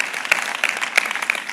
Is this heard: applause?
yes